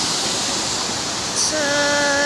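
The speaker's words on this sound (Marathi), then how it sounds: "इथे पाणी बघू शकता कसं पडतं" Water spills over a small dam (bandhara), a steady close rushing roar that fills the whole stretch, with a faint brief tonal sound near the end.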